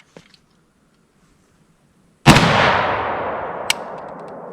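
A single AK-47 rifle shot fired at cinder blocks goes off as one sharp, loud crack after a quiet pause, followed by a long rolling echo that fades slowly, with a faint click near the end.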